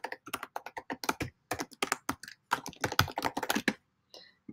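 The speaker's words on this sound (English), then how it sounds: "I'm going to type in my email address." Rapid clicking keystrokes on a computer keyboard as an email address is typed, a quick irregular burst of close, crisp taps with brief pauses, ending in a single separate key press.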